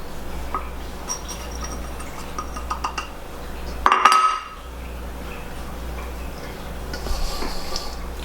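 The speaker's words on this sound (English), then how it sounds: "I'm taking the potatoes underneath and scooping it so I can mix it together" Seasoned potatoes for homemade tater tots are scooped from underneath and mixed, giving light clinks and scrapes of utensil on dish with one louder clatter midway, then quiet scraping again.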